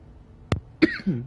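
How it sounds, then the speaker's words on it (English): A couple of quick, close coughs from a Horizon Forbidden West game character, with brief pauses, the last one rougher and throaty. "Damn, I keep coughing."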